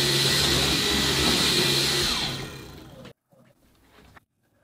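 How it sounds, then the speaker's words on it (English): A household vacuum cleaner runs loudly in turbo mode, a steady broadband roar with a high whine that winds down and cuts off, followed by faint brief knocks and rustles. "I'm going to try this, my vacuum cleaner. Put it into the turbo mode now, so it's quite loud"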